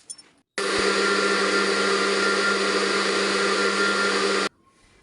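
A countertop blender whirs steadily at full speed through a thick mixture of milk and pasta, a loud, even roar lasting about four seconds that starts and cuts off abruptly, with quiet moments on either side.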